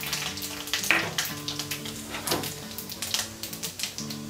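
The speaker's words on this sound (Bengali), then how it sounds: "তেল গরম হয়ে গেছে, এখন আমি ফোড়ন হিসেবে 5 ফোড়নটা দিয়ে দিচ্ছি। দিয়ে দিচ্ছি শুকনো মরিচ আর তেজপাতা।" Panch phoron spices, dried chilli and bay leaf frying in hot oil give a steady, close crackling sizzle with small pops, under a low, steady background tone.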